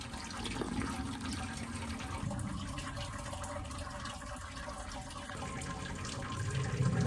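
Sparge water at 75 °C runs steadily through a lifted malt pipe on a homebrew beer brewday, a continuous close trickling and splashing of liquid that holds an even level throughout and swells slightly at the end.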